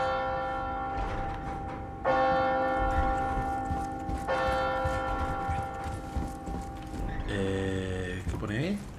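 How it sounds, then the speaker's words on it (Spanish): Church bells pealing in the video game Resident Evil 4 Remake, several long ringing strikes that swell and sustain with rich ringing overtones, followed by a faster cascade of tolling near the end. "Campanas a vuelo,"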